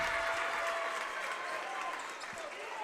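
A basketball crowd in a gym cheers and applauds steadily as both sides root for their teams, the noise held at a moderate distance, with a commentator's voice talking over it.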